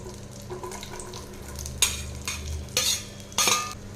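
A utensil stirs and scrapes vegetables in a sizzling pan, with a few distinct sharp scrapes near the end over a soft, steady frying hiss.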